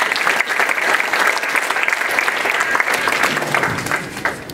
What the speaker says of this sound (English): Give Asha a round of applause.